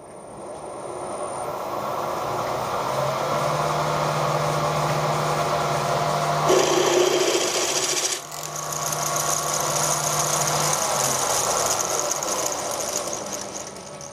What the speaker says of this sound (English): A bigger drill, once again left hand drill